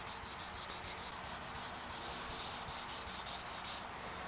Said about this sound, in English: We'll take our 320 block and let's just run over these bevels with the grain.